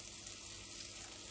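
Chopped leeks and potatoes for leek and potato soup sizzle in a hot pan, a soft continuous frying hiss heard briefly and alone.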